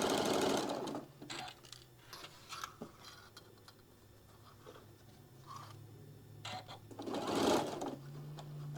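A sewing machine chain pieces compass quilt blocks in short, uneven stitching runs with clicks and fabric handling between bursts, close and moderately loud.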